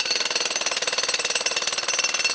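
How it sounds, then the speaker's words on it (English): An industrial jackhammer pounding in a rapid, steady rhythm of evenly spaced hammering blows, loud and close, running continuously without speech. "jackhammers,"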